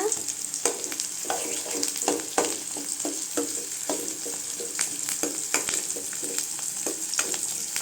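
Coriander chutney ingredients with tamarind sauté in a pan, a soft sizzle underneath frequent spatula scrapes and taps in a loose rhythm, close and fairly quiet, no talk.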